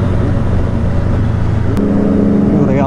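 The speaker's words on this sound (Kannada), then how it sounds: "ಫಾರ್ ಎಕ್ಸಾಸ್ಟ್ ಹಾಕ್ಕೊಂಡಿದ್ದಾರೆ ಗಾಡಿಗೆ" Motorcycle fitted with a free-flow exhaust revving loudly up close, a rough throbbing idle that rises into a sharp rev near the end.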